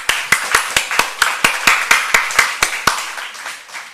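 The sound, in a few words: congregation clapping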